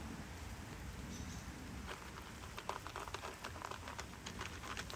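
Rain falls outdoors on a wet evening where a deer feeds, heard as a faint, steady hiss with scattered ticking drops that grow a little busier toward the end.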